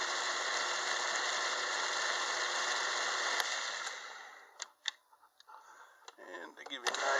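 A lathe's compound gear set with a 16-tooth gear drives the carriage, giving a steady whirring mechanical drone that stops partway through, followed by sparse clicks and ticks.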